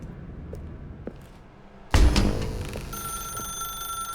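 An old desk telephone's bell in The Stanley Parable video game bursts in loudly and rings on steadily with a bright electronic tone after a quiet room ambience.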